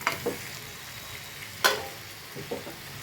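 Chicken pieces frying in oil-rich spice paste in a pan, a soft steady sizzle with a few sharp scrapes of a spatula stirring, close and moderately quiet.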